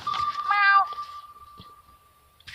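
A kitten meows in a video game: a loud, tonal meow near the start, then a long thin fading tone trailing off behind it, with no talk over it.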